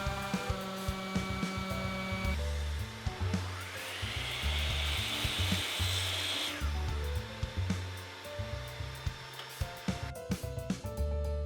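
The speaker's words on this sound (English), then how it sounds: "I cut it using my miter saw, but if all you have is a handsaw, that's perfectly fine too" A miter saw cuts through wooden dowels in a single continuous whining pass lasting a few seconds, loud and close, rising and then falling away, with background music playing throughout.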